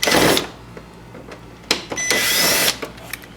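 Power screwdriver removing T20 screws from the underside of a Wildcat Sport bed, with two short whirring bursts of the driver close by, no voices.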